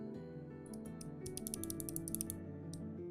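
Quick bursts of sharp clicks from a clicky mechanical keyboard being typed on, close up, over a steady tonal background hum with no speech.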